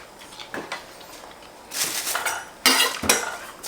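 Knife chopping half a bell pepper on a cutting board for cheesesteak fillings, a few sharp close cuts early, then louder clattering chops and board knocks toward the end.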